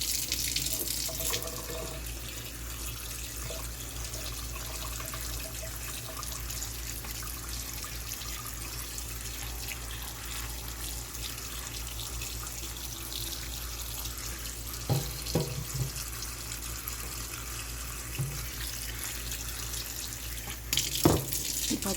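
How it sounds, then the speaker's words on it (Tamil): Cold tap water runs steadily into a sink as cooked pasta is rinsed, a continuous rushing wash with a few brief clatters and splashes near the end. "இதை வந்து குளிர் தண்ணியில் இப்போ அலச போகிறேன்னு"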